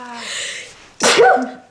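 A single close, loud sneeze bursts out after a second of soft breathy sound, sharp and forceful with a brief voiced tail, indoors.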